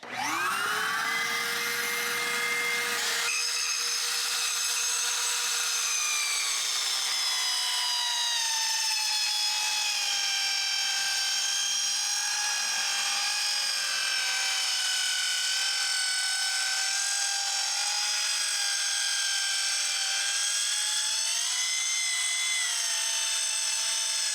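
A cheap mini circular saw with a vacuum attached whines up to speed, then cuts in one long loud continuous run that shifts slightly in pitch under load, close and steady throughout with no talking.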